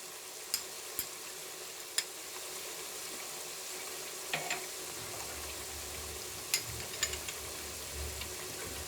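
Ginger-garlic masala with turmeric, salt and chilli frying in a pan, a faint steady sizzle with occasional sharp clicks of a spoon stirring and scraping.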